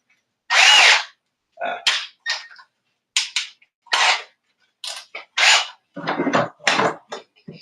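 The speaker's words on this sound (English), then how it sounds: "What I'm doing is just pre-drilling a hole." A cordless drill pre-drilling a hole whirs in a series of short, sharp bursts, starting and stopping repeatedly with brief silences between them.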